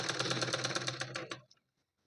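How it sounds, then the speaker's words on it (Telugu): A sewing machine stitches a fall onto a saree, a rapid, rhythmic run of clattering stitches heard up close for about a second and a half before stopping abruptly into silence. "ఒకసారి అయితే మనం కుట్టి చూద్దాము ఏ విధంగా కుడుతున్నాను అనేసి"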